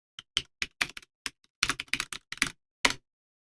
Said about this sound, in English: Someone asking about the keyboard. These are Cherry MX Brown.